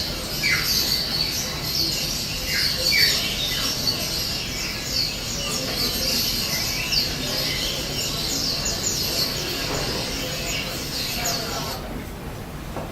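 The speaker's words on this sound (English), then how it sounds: "So you can see that there are a lot of birds, a lot of species, a lot of singing going on, and a lot of birds packed into small cages." Many caged birds of mixed species crowd a Jakarta bird market, keeping up a dense, continuous chorus of shrill squawks, chirps and song phrases throughout, with a faint murmur of people in the background.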